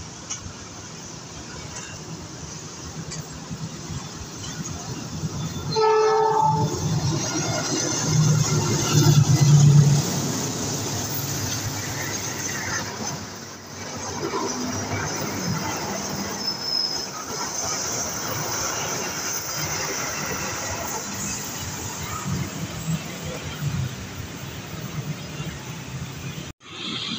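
A slow-moving cargo train rolls past on an afternoon railway, a steady broad rumble of wagons and wheels lasting throughout, with brief wheel squeals and a louder swell partway through.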